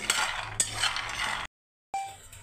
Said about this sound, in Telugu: ఇలా మూత తీసి కొంచెం అప్పుడప్పుడు కలుపుతూ ఉండాలి